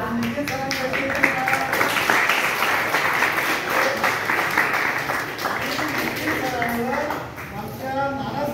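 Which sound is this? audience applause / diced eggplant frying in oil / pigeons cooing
audience applause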